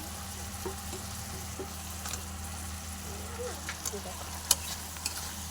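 Turmeric, cumin powder and chopped tomato frying in a pan give a steady low sizzle with a faint constant hum, while scattered scrapes and taps of stirring come through near and clear.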